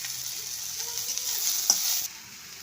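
Chopped coriander goes into hot oil with softened tomato, a faint steady sizzle close by with a single sharp clink of a spoon partway through before the sound drops lower.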